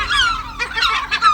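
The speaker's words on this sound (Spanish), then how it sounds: "Este sí que es el reino de las gaviotas." Gulls in a colony on an abandoned Cold War naval destroyer give loud, close, repeated cries that overlap in quick succession, with newly hatched chicks nearby.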